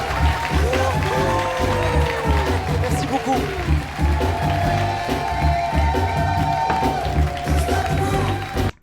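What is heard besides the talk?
audience applause and cheers at a comedy club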